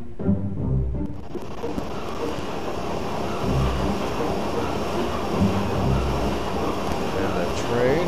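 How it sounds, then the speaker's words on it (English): A train chugs along in the video game Final Fantasy 8, a steady low rumble with soft rhythmic pulses that runs for the whole stretch without letting up. "And the train is going to chug along."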